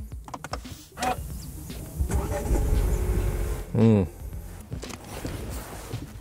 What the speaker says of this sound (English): the only way to know that you're in a GLB is to start the engine